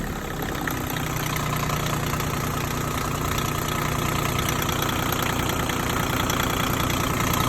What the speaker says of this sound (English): Watch what happens whenever I drop it down to an idle.